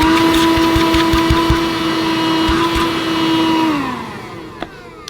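A Shop-Vac Micro cordless wet and dry vacuum cleaner runs with a loud steady motor whine and hum close by. Near the end the motor spins down and fades, followed by a couple of small clicks.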